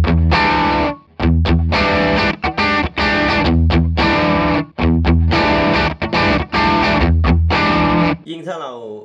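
An electric guitar through a Tube Screamer-style overdrive pedal plays crunchy overdriven chords in short rhythmic stabs with brief gaps, loud and close, ending on a ringing bend.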